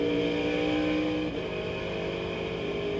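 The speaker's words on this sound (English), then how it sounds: "Listen to him shifting." A NASCAR truck engine roars steadily and loudly through a race, its pitch dropping briefly partway through as it shifts gears, then pulling on at a sustained drone.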